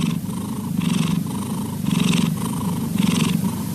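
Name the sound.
cat purring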